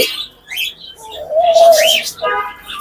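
Cockatiels and budgies at a bird market give close, bright chirps and a drawn-out whistling call, overlapping in quick bursts over a busy background.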